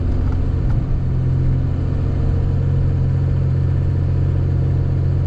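A car engine hums steadily in traffic during a Texas winter storm, a continuous loud low drone from nearby vehicles with no pauses.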